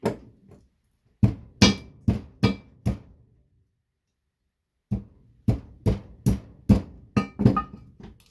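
A hammer smashing old computer monitor parts: a dozen sharp, close impacts in two quick bursts, each a crisp crack with brief rattling of broken pieces, separated by a pause.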